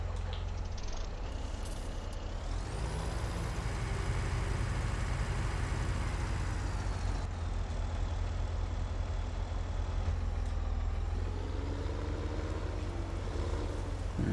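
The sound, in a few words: truck being moved back in Farming Simulator 17 video game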